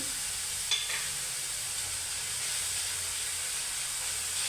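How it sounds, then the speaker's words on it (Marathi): Chopped onion sizzles in a hot pan as grated ginger and garlic are added, a steady close frying hiss with a brief clink of a utensil near the start. "आता हा कांदा परतत असतानाच त्याच्यामध्ये मी हे आलं लसूण घेतलं ते टाकते"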